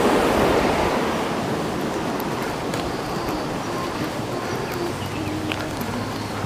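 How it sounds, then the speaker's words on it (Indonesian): River water flowing near a suspension bridge in Tambunan, Sabah, a loud, steady broadband rush with no voices, close and continuous throughout. "Kalau air sungai ni tak deras lah."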